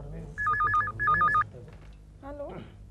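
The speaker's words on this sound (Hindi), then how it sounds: "गोखले, मिसेस कुलकर्णी का फोन है।" A telephone rings in a domestic comedy scene, giving two loud electronic trilling bursts in a steady pattern, followed by people talking over a faint background.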